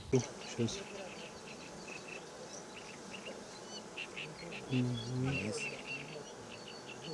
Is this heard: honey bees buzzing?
yes